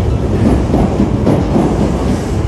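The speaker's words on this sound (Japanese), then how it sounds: "車庫に入る電車が発車し" A Kita-Osaka Kyuko train pulls away toward the depot, a steady loud rumble of wheels and rail clatter close by, continuous with no voices.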